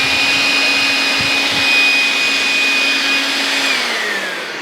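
A Milwaukee M12 cordless vacuum hums steadily with a high motor whine, close and continuous, its pitch sagging slightly as it begins to wind down at the end.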